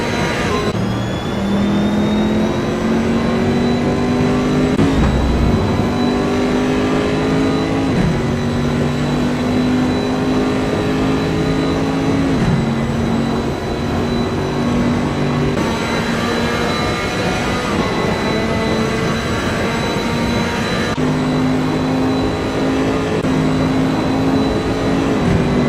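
Race cars roar steadily around Monza in a GT racing video game, engine pitch rising and dropping through repeated gear shifts as several cars run close together, loud and continuous throughout with no talk.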